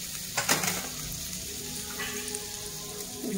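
Butter sizzles steadily on a hot tawa for an omelette, a close, continuous frying hiss with a few faint clinks and pops.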